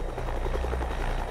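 A helicopter flying in still air on an ice-drive project site, its rotor producing a steady, loud low thrumming whir with rhythmic blade chop throughout.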